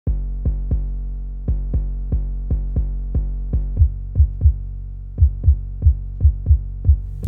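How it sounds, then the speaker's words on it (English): Deep booming 808 electronic bass drum hits repeat in a steady pattern, each with a long resonant tail and reverb wash; the rhythm doubles up toward the end. "there is an 808 preset, and my first thought was like, reverb on an 808?"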